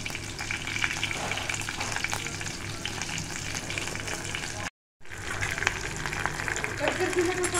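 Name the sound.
ginger garlic paste, chillies and curry leaves frying in pan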